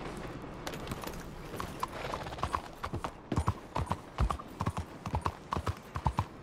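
Horse hooves clip-clop at a steady trot as a rider travels in Red Dead Redemption 2, with crisp, rhythmic hoofbeats close up over soft outdoor ambience, growing more distinct midway through.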